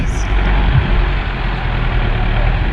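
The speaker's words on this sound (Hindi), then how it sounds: "ये गाड़ी निकल चुकी है।" A vehicle on a mountain road roars past close by with a loud, steady rumbling engine that holds throughout, a heavy truck-like drone with a brief hiss at the start.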